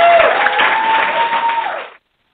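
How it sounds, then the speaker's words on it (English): Applause and cheering greet a podcast guest's introduction, a dense burst of clapping over a sustained tone that cuts off abruptly. "we'll get a cheer going"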